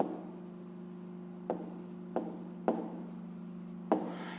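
A pen writes an answer in a notebook during a 5th-grade maths exercise, a few soft close scratching strokes with small taps over a steady low hum, with no talking.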